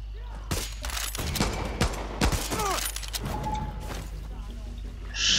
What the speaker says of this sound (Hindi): ये रॉकेट लॉन्चर है